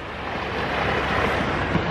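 Ocean waves at high tide on a beach make a broad, continuous rushing roar mixed with wind buffeting the microphone, steady and fairly loud with no voices.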